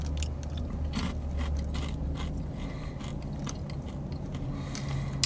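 Close crunchy chewing of a Buc-ee's Beaver Nugget caramel corn snack, a steady run of crisp bites and grinding crunches lasting several seconds with no talking.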